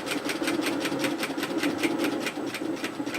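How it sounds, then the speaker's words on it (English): A sewing machine topstitches the split hem of a relaxed pullover hoodie, giving a steady, rapid run of stitches at moderate volume throughout. "I'm just going to stitch this out to the edge of my top stitching, rearrange my work, and continue down"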